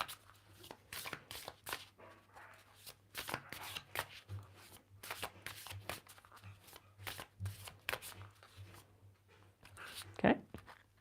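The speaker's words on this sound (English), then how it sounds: "Samantha, tell me when you want me to stop shuffling" Tarot cards being shuffled by hand, with repeated crisp riffling bursts and pauses, close and clear, and a voice speaking faintly over them at times.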